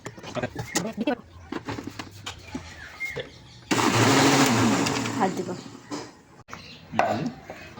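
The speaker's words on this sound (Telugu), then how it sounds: "పాలు పోసుకొని గిర మిక్సీ కొట్టేసి" A mixer grinder blending milk with jaggery whirs loudly for a few seconds, starting abruptly and winding down, with people speaking before and after it.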